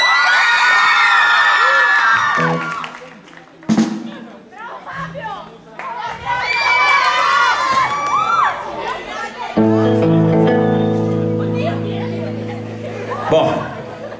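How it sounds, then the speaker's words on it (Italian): Crowd at a live Italian pop concert cheering, whooping and shouting for Fabio, loud and close in bursts, with music and a voice coming in and out around the noise. "Un applauso per Fabio"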